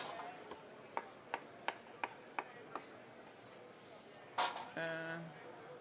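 A knife chops pumpkin into cubes on a board with a steady series of about seven crisp, evenly spaced taps, followed by a louder scrape and a brief rasping rub at the end.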